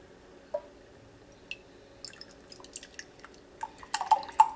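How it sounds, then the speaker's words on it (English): Fresh tomato juice trickles quietly into a mug, with soft scattered drips that grow more frequent toward the end in a quiet room. "I'm going to pour it in this mug."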